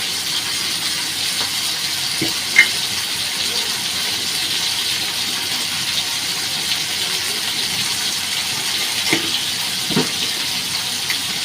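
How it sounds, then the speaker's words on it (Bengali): Fish fries in a pan, giving a steady, even sizzling hiss throughout with a couple of brief pops and crackles, close and moderately loud with no talk. "এখানে মাছ দিয়ে দিয়েছি ভাজা হচ্ছে"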